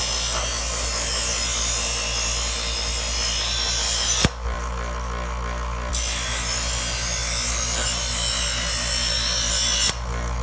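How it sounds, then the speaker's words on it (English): An electric knife sharpener hums steadily while a knife is drawn through its slots, giving a loud grinding rasp that breaks off abruptly and resumes between passes. "I'm going to turn the power on. I'm going to start to sharpen my knife."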